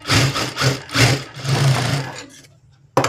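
A sewing machine stitches a blouse in quick, pulsing bursts of whirring and needle knocks close by, then falls almost silent before a sharp final tap.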